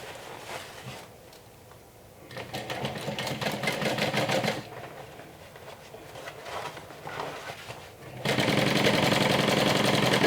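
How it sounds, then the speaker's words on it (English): A sewing machine stitches through a fabric pocket with a half-inch seam, running in several bursts of rapid, even chatter separated by brief pauses, the last stretch louder and sustained. "You just want to stitch through the pocket. With a 1/2 inch seam allowance."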